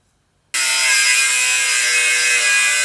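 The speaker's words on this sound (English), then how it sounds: "cut a couple of chunks off that square tubing and start measuring it up" Square metal tubing is cut into chunks with a power saw during a Porsche 911 engine-swap fabrication job, a loud, steady, bright grinding whine that starts abruptly after a moment of silence and runs on evenly.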